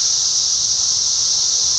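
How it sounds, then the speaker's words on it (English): Cicadas buzz in a steady, loud, continuous high-pitched drone that holds unbroken for the whole stretch, with no voices over it. "Those are the cicadas."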